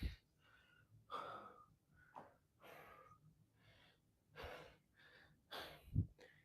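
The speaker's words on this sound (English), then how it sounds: "Breathing hard, no water." Heavy, ragged breathing in and out, close and fairly quiet, with sharp gasping inhales and breathy exhales spaced irregularly.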